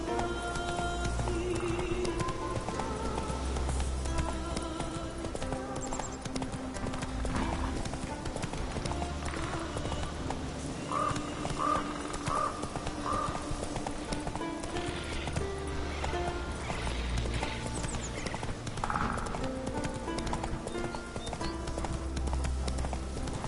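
A horse gallops steadily in The Witcher 3, with continuous rhythmic hoofbeats over a busy game soundscape of ambient music and effects, a few higher tones rising briefly midway.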